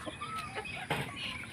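A breeding hen in a backyard flock clucks in short close bursts, with other fowl calling faintly over a steady outdoor background.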